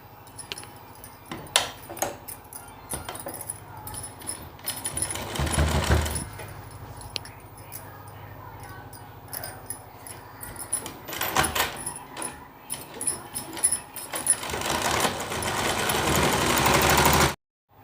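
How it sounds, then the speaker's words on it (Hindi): A sewing machine stitches along the belt of a four-panel petticoat with uneven runs of close mechanical rattling and clicks, pausing and restarting, ending in a louder sustained burst, with no voices. "इसी तरह हमें पूरे बेल्ट पे सिलाई लगा लेना है।"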